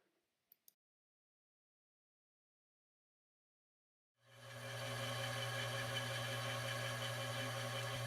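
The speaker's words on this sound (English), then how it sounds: "Using the faceplate as a driving plate, I am turning a long rod between centers" A Cowells 90 ME lathe turns a long rod between centers, driven from the faceplate. The steady machine hum with a low tone starts abruptly after about four seconds of near silence and then runs continuously.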